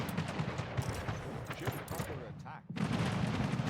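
Rapid cannon fire from ships during a naval battle in the strategy game Anno 1800, a dense run of booming shots blending with speech over busy game noise and music.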